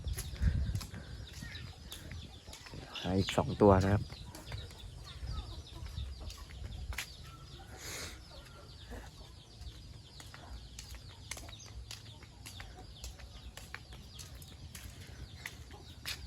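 Young Burmese fighting roosters being handled and caught, with a short harmonic crow or squawk and brief flapping amid rustling, heard near and moderately loud while someone talks.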